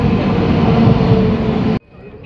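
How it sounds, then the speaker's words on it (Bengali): A train pulls out of Khagraghat Road station as a loud, continuous low rumble and roar, close by and steady, then cuts off abruptly near the end. "আমাদের ট্রেন ছেড়ে দিল খাগড়া থেকে"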